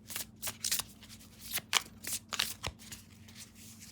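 Tarot cards are shuffled in quick, crisp bursts of riffling and slapping, fairly quiet, with short pauses between.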